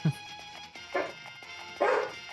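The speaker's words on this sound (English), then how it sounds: "forgive me if you hear dogs barking every now and then here" Dogs barking indoors in the background during a handheld game session, a few separate yipping barks spread across the moment, moderately close with quiet gaps between them.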